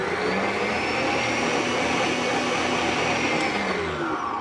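An electric mixer whips egg whites in a bowl with a loud, steady whirring drone that holds close and continuous, its pitch shifting slightly as the beaters work through the mixture.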